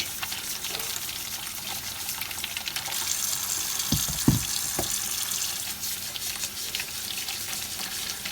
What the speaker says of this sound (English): give our potatoes a nice wash.